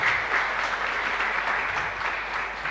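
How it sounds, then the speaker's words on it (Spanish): A congregation claps during a live Catholic Mass at Sagrada Familia parish in Luque, a dense, even burst of applause from many people that holds steady from start to end without talk. "Fuerte aplauso para él entonces"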